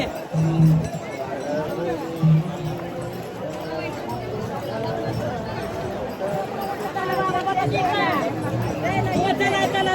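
Dense crowd of pilgrims at the Pandharpur wari, a thick, steady babble of many voices and shuffling movement close around, with nearby people talking and calling out, growing slightly louder toward the end.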